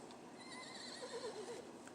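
A horse in the video game Fallout 4 whinnies in a wavering, high neigh, faint and slightly distant, lasting about a second over a quiet hum.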